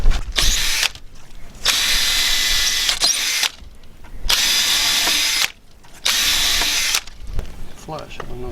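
A power drill whirs in three long bursts separated by brief pauses, loud and close.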